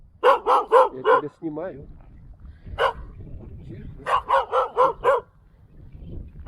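A dog near a garage barks in two quick bursts of four or five loud, close barks, with a single bark between them, while someone talks and hushes it.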